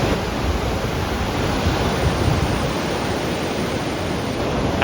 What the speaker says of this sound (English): And here it is, the Pacific Ocean.